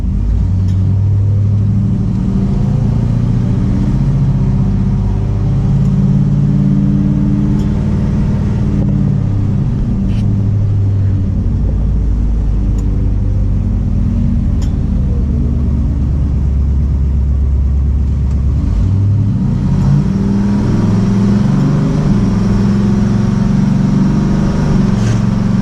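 Old American muscle car engine running smoothly, a loud, steady low rumble from close by with slight shifts in pitch as it cruises, no voices over it.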